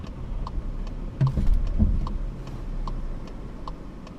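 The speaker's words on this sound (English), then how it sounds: "As you hear the quality indicator tick" Turn-signal indicator of a 2023 VW Polo 1.0 three-cylinder hatchback ticking in a steady, even rhythm inside the cabin over a low engine and road hum.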